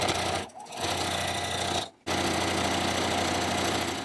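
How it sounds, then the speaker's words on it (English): A sewing machine stitches down the sides of a quilted zipper pouch in steady, loud, continuous whirring runs, stopping briefly twice before resuming, with no talking. "Now I'm just going to sew these little bits. I'm going to stitch down each side."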